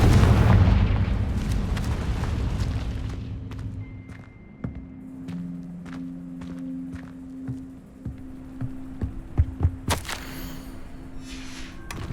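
A Confringo spell detonates in the Hogwarts Legacy video game on PS5, a heavy, close roaring blast that rumbles away over several seconds, followed by scattered clattering debris and a sharp crack near the end.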